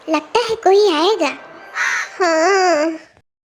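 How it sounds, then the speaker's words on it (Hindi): Crows cawing in a Hindi cartoon, a series of loud close harsh caws in short bursts, some drawn out and wavering. "आज भोर से ही कौवा बोल रहा है"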